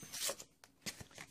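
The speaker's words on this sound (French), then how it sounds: "Donc là, voilà, je déchire." Paper torn by hand for a Christmas photo album scrapbook, a few short rough ripping bursts, faint and close, separated by brief pauses.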